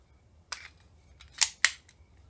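Dummy practice rounds being loaded and chambered in a rifle give a few sharp, dry metallic clicks, with a lone snap followed by two quick close clacks, near and otherwise quiet.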